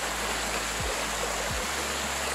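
Falling water roars as a steady, broad hiss, constant and enveloping throughout.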